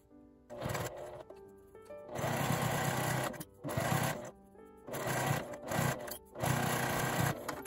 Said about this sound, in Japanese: 開いて表側から端ミシンをかけます。